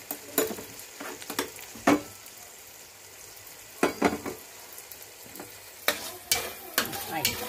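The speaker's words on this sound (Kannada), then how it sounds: "ದ್ರಾಕ್ಷಿ ಹಾಕಿದ್ದೀನಿ, ಎರಡನ್ನು ಫ್ರೈ ಮಾಡಿ." Raisins frying in a pan for pumpkin halwa give a soft, steady sizzle. A spoon scrapes and stirs in repeated sharp strokes, with no talking.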